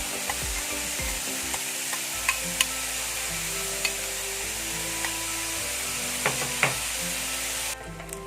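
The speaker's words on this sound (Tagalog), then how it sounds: "And then i-fry na natin yung ating bacon." Bacon sizzles steadily in a little hot oil in a pan, with a continuous close crackle and occasional sharp pops, and no talking.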